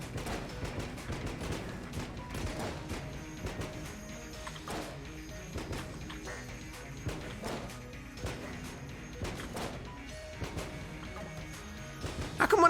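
Rapid rhythmic gunfire and small blasts from the game Enter the Gungeon crackle in steady bursts over a busy music backdrop, with a louder explosive flare at the very end.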